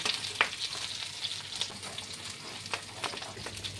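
Mixed vegetables for a restaurant-style curry are briefly stirred in hot oil, giving a steady close-up sizzle broken by scattered scraping clicks of the spoon over nearly four seconds, with no voices.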